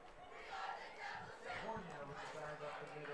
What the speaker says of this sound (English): Crowd getting fired back up.